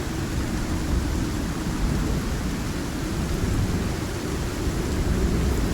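A thunderstorm in the survival video game Icarus gives steady, dense rain hiss with a deep continuous rumble. A low thunder roll swells near the four-second mark, and the storm holds at constant loudness with no voices.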